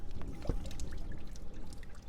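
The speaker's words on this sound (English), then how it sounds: "looks like water is coming in." Water trickling from a pipe into a drainage ditch outdoors, a faint steady pouring dribble with a small splash near the start.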